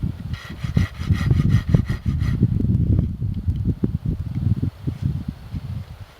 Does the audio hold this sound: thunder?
no